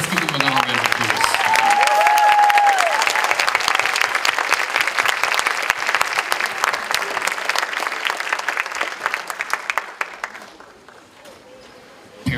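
Loud, dense audience applause at an elementary school spring concert, sustained for about ten seconds before thinning into scattered claps and fading, with voices briefly audible near the start.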